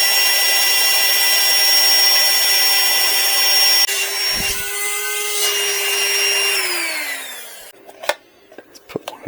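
AstroAI portable 12V car vacuum cleaner running on a tough rug, giving a steady high-pitched motor whine that shifts and drops in pitch as it works, then cuts off, leaving a few clicks and knocks.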